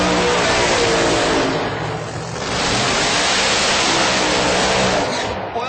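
Drag racing cars at a PDRA event do quick burnouts, a loud sustained roar of engines and tire spin filling the air, dipping briefly midway before surging again.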